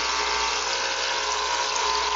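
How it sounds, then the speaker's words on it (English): A small, cheap aquarium air pump runs flat out with a steady, close buzzing hum and hiss, driving an air-stone with no pauses. "You hear my air pump going crazy because, I don't exactly have the best air pump."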